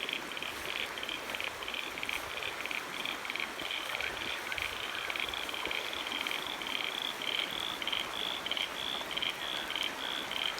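Frogs croak steadily at a garden pond, a dense, continuous chorus of rapid pulsing calls at an even level throughout, with no voices.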